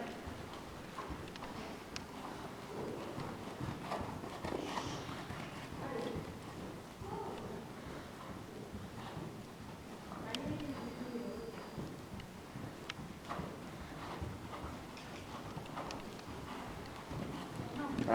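Horse hooves strike arena ground in a steady rhythmic clip-clop during a riding lesson, moderately close, with an instructor's voice coaching over the footfalls and faint background noise throughout.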